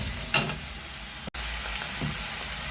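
Spices frying in hot oil in a home kitchen, a steady close hiss of sizzling with a couple of brief stirring scrapes.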